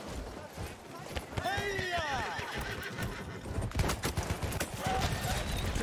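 In the video game Battlefield 1, a horse whinnies loudly, followed by rapid clip-clop hooves and scattered bangs, with a person talking over the action.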